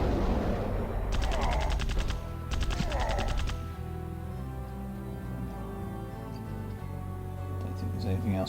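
Guns firing in the strategy video game Epic 40,000: Final Liberation, two rapid bursts of rattling machine-gun fire followed by a low rumbling hum, with someone talking throughout.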